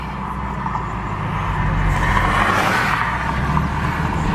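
A car speeds past on an open road at high speed, its engine and tire roar swelling to a peak near the middle and then fading, heard over steady road and wind noise from inside a moving vehicle.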